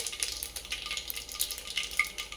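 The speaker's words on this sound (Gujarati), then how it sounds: "રાઈ ક્રેકલ થઈ રહી છે" Mustard seeds crackle and pop in hot oil, a steady close sizzle with scattered sharp pops throughout, with no talking.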